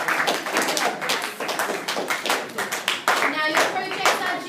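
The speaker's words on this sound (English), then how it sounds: "Give yourselves a massive round of applause." Students clap in a classroom, a burst of many hands slapping in an uneven, close rhythm that runs the whole time, with a cheer and voices mixed in.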